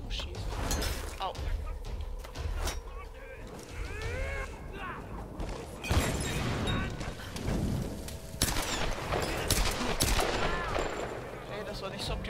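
Gunfire from an enemy positioned above in Tomb Raider, repeated rapid shots and crashing impacts scattered throughout amid busy action noise, with a person talking over it.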